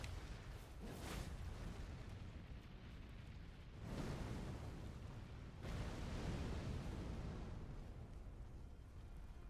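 Heavy in-game explosions from Elden Ring, Shadow of the Erdtree expansion, a few loud low booms with broadband bursts near 1, 4 and 6 seconds over a sustained rumbling wash, no speech.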